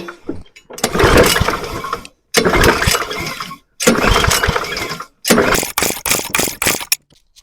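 An MTD lawn mower engine, with a bad carburetor and leaking gas, is pull-started several times in close, loud bursts, each cranking run lasting a second or more, and the last few pulls come quicker and shorter.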